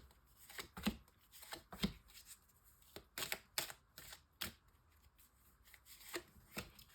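Oracle cards being shuffled for a tarot reading, a quiet series of soft papery riffles and flicks in irregular bursts, close and alone with no talk.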